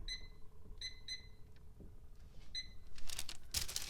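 A kitchen timer is set while focaccia bread is being made, giving several short, high electronic beeps in quick pairs, followed by faint crinkling and rustling near the end, with no talk.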